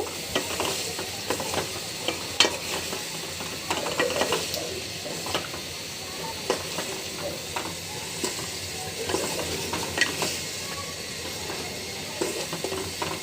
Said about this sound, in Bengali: মশলা এবং টমেটোটা খুব ভালোভাবে আমি কষিয়ে নিব।